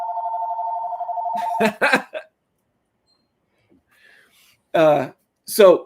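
A telephone rings with a steady electronic trill for about a second and a half, then cuts off as someone speaks over it and continues talking after a pause.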